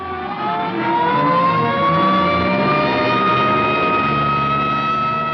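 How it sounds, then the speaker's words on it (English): An ambulance's wailing siren rises and holds over a loud, close engine as it passes, the pitch sliding slowly downward. "here comes an ambulance out"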